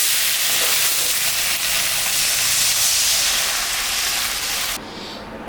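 Loud, dense hiss and sizzle as water is poured onto fried spices for a fish curry, continuing steadily before dropping off abruptly near the end.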